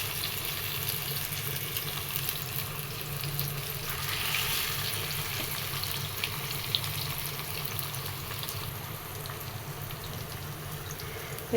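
Fish frying in hot oil, a steady soft sizzle and crackle that holds evenly throughout at moderate distance, with no voices.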